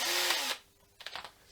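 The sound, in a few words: power drill driving a screw into a guitar neck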